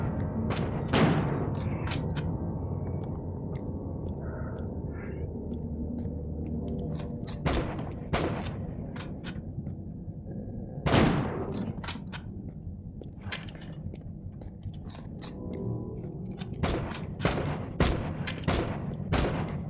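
Gunfire aimed at the player in the shooter game You Are Empty, sharp shots cracking at irregular intervals over a low rumbling background, some close and loud, others fainter.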